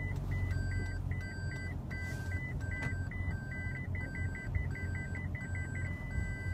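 A 2016 Toyota Prius in reverse gives a steady series of short, evenly spaced electronic beeps. They repeat about twice a second and sound quiet and near over a low cabin rumble.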